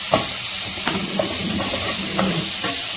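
Chopped onion with ginger and garlic sizzles in a hot pan, a close, steady hiss broken by a few soft stirring scrapes and clicks, with no talking.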